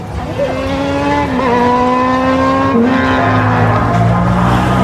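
A big Kawasaki motorcycle roars past up close, its loud steady engine tone shifting in pitch as it goes by, holding a strong sustained drone for several seconds.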